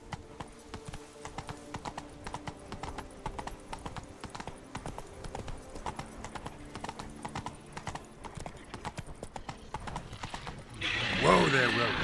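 Roach, a horse in The Witcher 3, clops along in a steady close rhythm of hoofbeats under game music and occasional speech, ending in a louder whinny-like burst.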